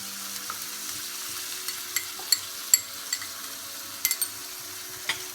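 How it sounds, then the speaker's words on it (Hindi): Chicken tikka masala fries in a pan, a steady close sizzle broken by several sharp spatters and occasional stirring scrapes, with no one talking. "अब हम इसको अच्छे से फ्राई करेंगे।"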